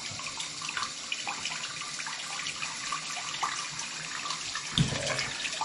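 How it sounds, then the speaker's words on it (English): Water runs steadily from a sink faucet during a drain-cleaning fix, a soft continuous hiss and splash at low level with one brief louder splash near the end, no talking. "So I'm going to turn the water on"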